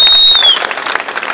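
Audience at a Maharashtra election rally applauding, a brief patter of clapping that fades out quickly, with a faint high electronic whine at the start.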